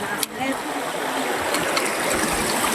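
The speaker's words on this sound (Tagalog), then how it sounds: "Tapos ito yung river." A mountain river along a hiking trail flows with a steady broadband rush of water, near and continuous, with a voice faintly present over it.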